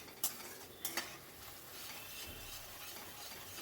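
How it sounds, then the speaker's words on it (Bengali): Masala paste stirred continuously in a pan over medium-high flame, with a few sharp metallic spoon scrapes early on over a soft, steady sizzle. "এবার মিডিয়াম টু হাই ফ্লেমে রেখে অনবরত নাড়াচাড়া করে নিচ্ছি"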